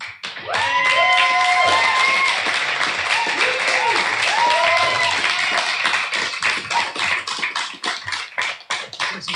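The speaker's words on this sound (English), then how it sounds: "It's a state-of-the-art canned applause that you've got." Canned applause plays as a sound effect during a political panel discussion: a sustained burst of dense clapping that thins into scattered claps toward the end, with voices briefly audible early on.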